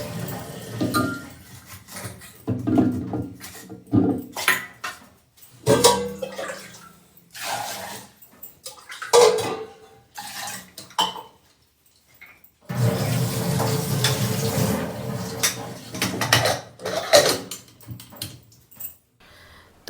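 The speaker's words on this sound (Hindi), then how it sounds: "इनको धुल लेते हैं और फिर रख देते हैं इनको गैस पर" Raw potatoes are washed by hand in water in a home kitchen, with sloshing, splashing and running water alongside clinks of a metal pot, in bursts with brief pauses.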